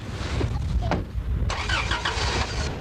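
A fully loaded delivery truck's engine turning over and catching, a mid-pitched motor rumble rising and settling into a running idle, close by with no talk.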